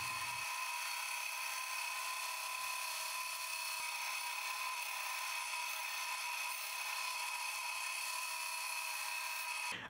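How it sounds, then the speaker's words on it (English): A steady, continuous high whine holds for about ten seconds, loud and close with no breaks or talking, as a bandsaw cuts a piece of plywood. "Next, I cut this plywood piece on the bandsaw."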